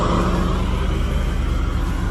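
A 1997 Pontiac Trans Am engine runs with the windows rolled up, heard from inside the car as a steady, close, continuous low rumble with a faint whir and no change in pace.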